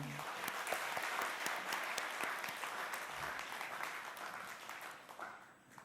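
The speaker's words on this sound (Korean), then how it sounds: "우리 박수로 환영하겠습니다" A church congregation applauds to welcome a newly arrived family, steady dense clapping filling the room and tapering off near the end, with no talk over it.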